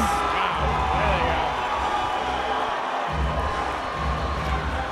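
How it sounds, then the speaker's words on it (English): Loud crowd roaring and cheering at an amateur MMA cage fight in Plymouth, a dense, sustained wash of noise filling the whole stretch with a commentator's voice running over it. "The crowd is deafening again."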